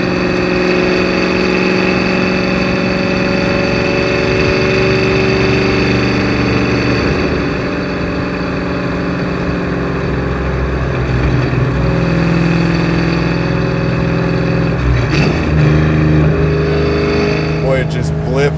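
An Eleanor Mustang's engine hums and revs while driving, with sharp throttle blips near the end over a steady running drone, as people talk inside the car.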